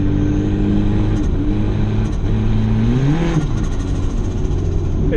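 The turbocharged engine of a cheap car revs steadily and close by, its pitch climbing and then dropping as the automatic gearbox downshifts, over a constant drone.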